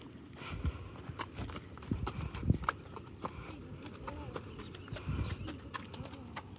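A stud horse's hooves clip-clop at a walk as he is led past mares on a farm, steady footfalls amid background voices and faint birds.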